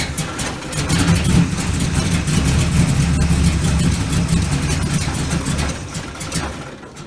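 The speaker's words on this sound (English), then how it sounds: "firing up my first Holley" An engine fitted with a Holley 780 cfm four-barrel carburetor (model 3310-1) cranks, catches and settles into a loud, steady idle close by, with a lumpy low rumble that holds for several seconds before tapering off.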